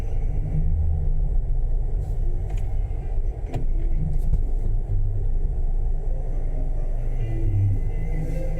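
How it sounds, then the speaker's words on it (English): Cars driving past a fruit market queue in north Glasgow, a steady low road rumble that holds for several seconds, with a few faint knocks and no voices. "So there's the cars going in there."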